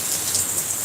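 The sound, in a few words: heavy rain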